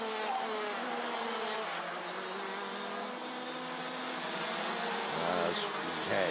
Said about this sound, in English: All 18 karts are still running.